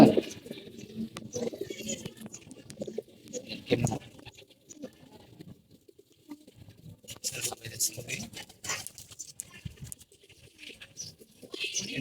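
Pigeons, including young khaki-necked and silver black-necked birds, coo intermittently in a loft, with shuffling and patter, while a person talks briefly nearby.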